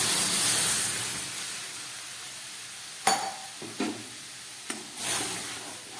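Fried semolina in a pan hissing and sizzling steadily as milk is poured in, followed by a few distinct scrapes and knocks of a spoon stirring against the pan.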